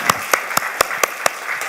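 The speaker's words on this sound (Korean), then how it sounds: "우리 서로에게 축복의 박수합시다." A church congregation claps in an even, steady rhythm, with about seven sharp, close claps evenly spaced in under two seconds.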